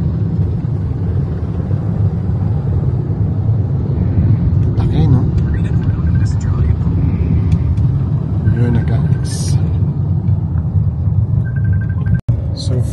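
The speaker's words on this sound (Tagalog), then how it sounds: "nasa makasaysayang traffic na tayo ng EDSA" Heavy traffic on EDSA in Manila near Mega Mall, a constant low rumble of vehicle engines with passing cars and occasional higher mechanical noises, under steady talk from a person nearby.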